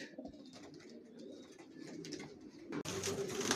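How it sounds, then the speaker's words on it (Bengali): Racer pigeons in a loft give soft, low cooing calls that continue over a steady background hum, close by, with a louder rustling noise near the end. "এগুলো আমার স্টকে রাখা, রেস্টে দেওয়া কবুতর"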